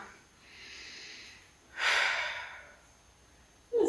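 A person breathes during a foot and ankle balance exercise: a soft inhale, then a stronger, longer breathy exhale, ending with a brief sharp breath, all close and quiet.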